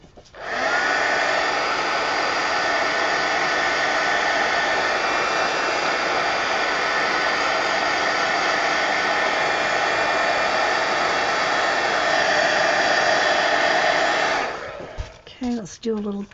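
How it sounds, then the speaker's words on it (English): A heat gun blows hot air with a loud, steady whooshing whine that holds for about fourteen seconds, then cuts off, leaving faint handling noises. "Heat gun."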